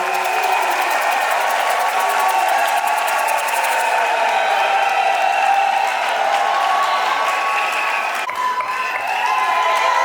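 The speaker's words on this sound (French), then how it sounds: "sous vos applaudissements" An audience at an International Day of the African Woman event applauds: continuous crowd noise with sustained high-pitched cheering or ululating voices layered over the clapping, loud and unbroken throughout.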